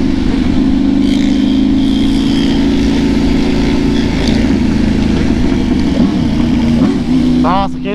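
A motorcycle engine idles and revs loudly up close, a steady droning exhaust note with pitch swells, while someone talks over it.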